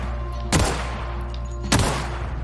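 Two loud, sharp assault rifle shots in The Outer Worlds video game, spaced a little over a second apart, each with a short booming tail over a steady background hum.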